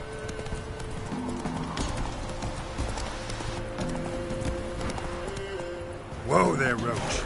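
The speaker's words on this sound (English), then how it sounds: "Whoa there, Roach" Horse hooves clip-clop steadily in The Witcher 3: Wild Hunt on PS4, with a rhythmic gait under game music, followed by a brief whinny near the end.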